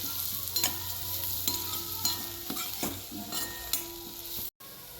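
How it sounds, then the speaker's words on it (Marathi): A spoon stirs chopped safflower greens with asafoetida in a hot pan, giving a steady sizzle broken by repeated scraping strokes at an irregular rhythm, close and clear, ending in a brief silence. "आता याच्यामध्ये पाव चमचा हिंग टाकून घेऊया आणि मिक्स करून घ्यायचं आहे"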